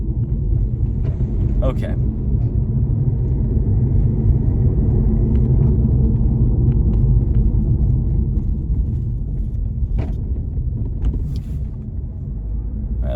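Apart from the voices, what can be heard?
18-wheeler trucks driving past on the road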